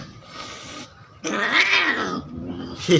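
A fierce, aggressive cat yowls during a nail trimming, with a long, wavering, loud caterwaul up close after a quieter opening, then a growly tail that rises again at the end, with no talking.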